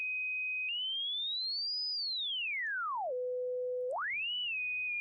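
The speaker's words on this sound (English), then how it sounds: "Let's turn the noise down and go back to the electrical whine." A pure electrical whine tone generated by the Artifacts lo-fi app on iPad glides upward, sweeps down to a low steady pitch, then rises again and settles, clean and alone.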